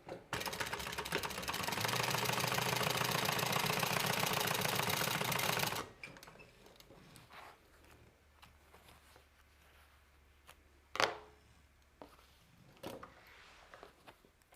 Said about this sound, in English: we're just going to stitch this bottom close